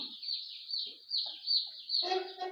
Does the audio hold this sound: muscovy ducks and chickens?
yes